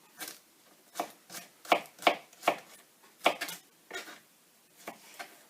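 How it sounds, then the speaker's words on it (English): A knife chops an onion on a board in a home kitchen, about a dozen crisp, uneven strokes spread over several seconds, close and clear, with no talking. "and then you can just chop it"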